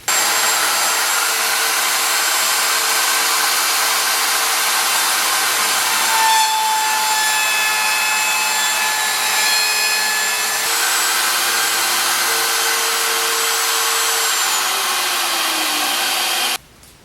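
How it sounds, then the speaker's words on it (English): A dovetail router bit cuts wood for a nightstand joint, a loud, steady high-pitched whine with grinding cutting noise that holds for about sixteen seconds before stopping abruptly. "Got the dovetail router bit mounted, and now we're going to cut away this first section."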